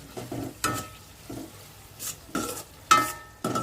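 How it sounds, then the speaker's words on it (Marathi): A spoon stirs and mashes tomatoes in a pan for dal tempering, making a series of uneven scraping clinks with a faint sizzle between the strokes. "त्याला आता आपण हलवून घेऊया"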